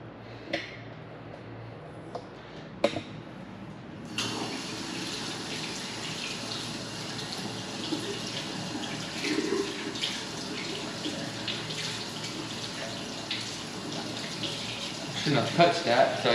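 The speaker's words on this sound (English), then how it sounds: "I'm gonna wash my hands real quick." A bathroom tap runs steadily for hand washing in a Las Vegas rental condo, a constant rushing stream after a few clicks and knocks, with a voice talking faintly at times.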